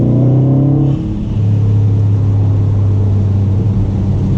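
A 2019 Subaru STI with a Remark axle-back exhaust revs loudly and close up, a deep throaty drone that dips briefly before settling into a steady rumbling tone, with no distinct pops standing out.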